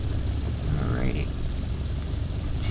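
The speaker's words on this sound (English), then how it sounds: "Right by good old Uncle Earl's plane" A propeller airplane engine in the Farming Simulator 15 video game drones steadily and loudly, parked by a roadside on a farm map, holding an even, unbroken roar throughout.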